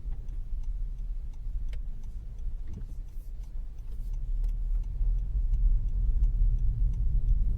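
A car drives along Texas State Highway 207 near Silverton with a light mist on the windshield. A steady low engine and road rumble holds throughout and grows a little louder in the second half, with small ticking sounds over it.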